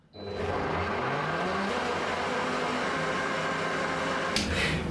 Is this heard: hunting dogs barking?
no